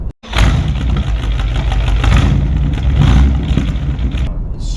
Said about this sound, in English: I go and pick her up with a snarling V8 that it's so loud, man.